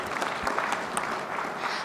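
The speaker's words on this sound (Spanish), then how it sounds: "Un aplauso, por favor." Audience clapping at a weekly assembly meeting, a steady broadband patter of many hands sustained for a couple of seconds at moderate distance, with no talk over it.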